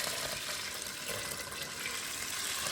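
Water pours steadily into a pressure cooker for a batch of samp and red kidney beans, making a continuous close splashing rush with no break.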